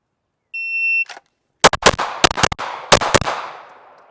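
A Ruger RXM pistol fires six shots at an outdoor range, sharp loud reports in quick split-second succession with ringing decay, preceded by a brief electronic timer beep.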